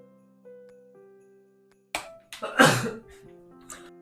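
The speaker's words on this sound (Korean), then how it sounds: "죄송합니다. 재채기가 나오네요." A man sneezes, a sudden loud burst close to the microphone followed by a smaller breathy catch and a short tail, after a faint electronic tone.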